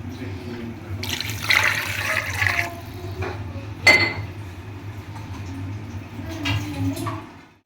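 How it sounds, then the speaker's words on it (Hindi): A glass of water is poured briefly into a pot of potato and mutton curry, followed by scattered clinks of metal utensils in a quiet kitchen. "अब हम 1 गिलास इसके अंदर पानी ऐड कर देंगे।"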